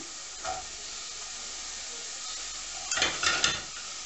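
Cherries sizzling in a frying pan, a steady soft hiss throughout with brief louder crackling bursts of stirring near the end.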